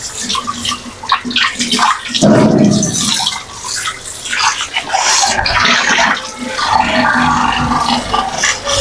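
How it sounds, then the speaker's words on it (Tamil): Cooking oil poured steadily into a frying pan to deep-fry elephant foot yam balls, giving a continuous close, splashy liquid rush with no talking. "இதை வந்து ஃப்ரை பண்ணி எடுக்கிறதுக்கு நான் இதில் எண்ணெய் ஊற்றிக்கிறேன்"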